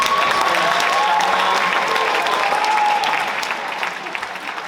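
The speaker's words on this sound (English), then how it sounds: "give a round of applause to yourselves" An audience at a student comedy show opening gives itself a round of applause, dense sustained clapping with some cheering filling the room and tapering slightly toward the end.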